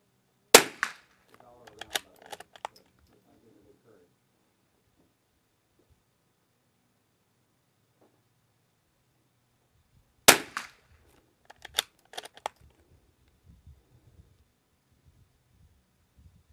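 Aquila 22LR rimfire ammunition fired from a rifle: two sharp, loud cracks about ten seconds apart, each followed by a few softer clicks and handling knocks, with quiet gaps between them.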